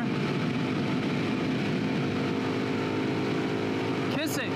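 Kawasaki KLR650 motorcycle cruising on a freeway at about 90: a steady drone of engine and wind noise, close and constant, with a brief burst of louder rushing noise near the end.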